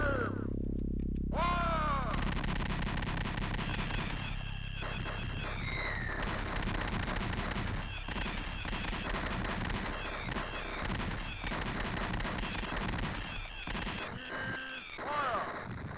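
Cannon fire booms out in a video game, a sharp blast at the start followed by a long run of scattered, rumbling shots and bursts.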